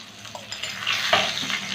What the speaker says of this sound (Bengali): একটু ফোড়নটা ভেজে নেব ফোড়নটা একটু ভেজে নিলাম